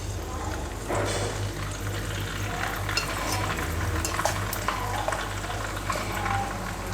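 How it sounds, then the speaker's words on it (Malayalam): Anchovies sizzle in hot oil in a pan, a steady bubbling crackle with a few louder spits and clinks of stirring, close and continuous with no talking. "അപ്പോൾ ഞാൻ സിമ്മിലോട്ട് വെച്ചിട്ട് ഇത് നൊത്തോലി ഇതിലേക്ക് ഇട്ട് കൊടുക്കാം."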